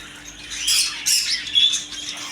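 Pet birds in a bird shop, including zebra finches, chatter and squawk in a dense overlapping flock, with shrill chirps rising and falling close by and no talk over them.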